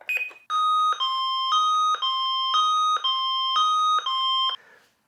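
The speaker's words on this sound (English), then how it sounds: "You don't want to wake up by accidentally triggering this machine going off." A Medical Guardian home medical alert system sounds its alarm: a loud, steady run of about eight repeating two-tone electronic beeps in an even rhythm, alone and close by, before cutting off.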